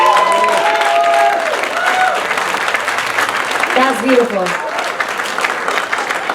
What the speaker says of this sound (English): I want you to clap your hands.